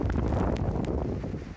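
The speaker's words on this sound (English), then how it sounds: "Winds strong enough to rip this barge loose." Strong hurricane wind gusts from Hurricane Zeta near a loose barge, a loud continuous roar buffeting the microphone, steady throughout and easing slightly at the end.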